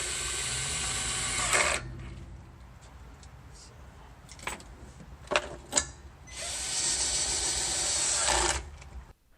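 A socket wrench ratchets on a rusty part of a Husky 150 psi air compressor in two long, steady bursts of rapid clicking, separated by a few isolated metal knocks and taps.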